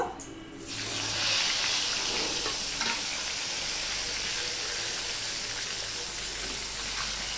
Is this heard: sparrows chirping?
no